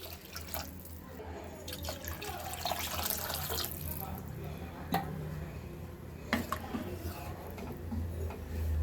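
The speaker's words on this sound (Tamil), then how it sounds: "இப்போ மூணு டம்ளர் தண்ணி ஊற்றிக்கலாம்" Three tumblers of water are poured into a pan while cooking wheat rava upma; the trickling, dripping water sounds are fairly quiet and close, set against low kitchen background noise.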